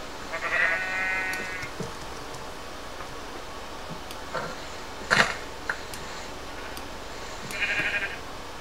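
Two short bleats from a Minecraft sheep, one near the start and one near the end, with a few faint clicks between them over quiet background.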